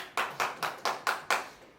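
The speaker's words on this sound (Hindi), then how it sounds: "तालियां।" A short burst of hand clapping, about six evenly spaced claps ringing out clearly with no voices.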